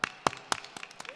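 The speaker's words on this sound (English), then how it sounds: "So I want to give everyone a round of applause for that." Scattered hand claps from an audience at a cannabis convention panel on medical marijuana, a few sharp separate claps with no swell of full applause, heard at moderate distance.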